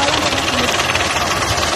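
A Belarus 510 tractor engine runs close by in a berseem field, set up with an 18-disc plough, giving a dense, steady, rough diesel clatter without pause.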